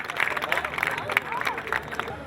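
Audience clapping at a poetry recital (mushaira), a dense wash of applause mixed with crowd murmur, steady and moderately loud throughout the short stretch.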